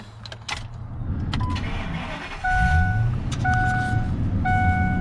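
A 2003 Ford F250 work truck with about 164,000 miles cranks and catches midway, then settles into a close, steady idle while a repeating electronic chime beeps over it.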